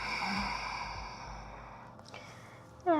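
An audible exhale during a calming yoga stretch, a soft drawn-out sigh of breath fading gently over a few seconds, close and quiet, with no talking.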